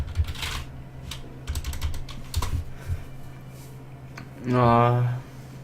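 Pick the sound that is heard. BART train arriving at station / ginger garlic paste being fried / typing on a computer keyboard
typing on a computer keyboard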